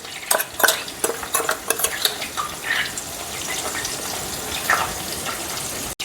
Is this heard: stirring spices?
yes